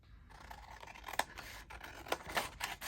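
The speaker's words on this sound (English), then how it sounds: "I'll just quickly snip that off and then fix it." Scissors snip through envelope paper in a few crisp, close cuts, spaced irregularly against a quiet background.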